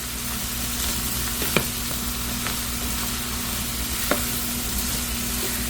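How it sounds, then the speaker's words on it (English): Vegetables being stirred in butter in a pan over medium heat, with a steady close sizzle of frying and a couple of sharp utensil scrapes and taps against the pan. "Go ahead and stir it around so that butter coats everything."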